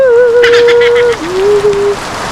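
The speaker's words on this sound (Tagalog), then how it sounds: "malakas yung ulan dito at trip kong maligo ngayon" Heavy rain pours down steadily as a broad, continuous hiss, with a sustained, voice-like wavering tone riding over the downpour for most of the moment.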